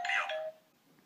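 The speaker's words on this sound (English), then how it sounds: "It's the doorbell." A doorbell in a children's cartoon rings once with a bright chime, loud at first and then fading into a lingering tone over about half a second.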